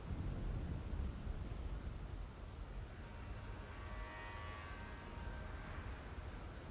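A rumbling, crackling surge from Baal's flame lightning incantation in Elden Ring, a thunder-like roar that swells loudly at first and then fades into a long sizzling wash, with no voices.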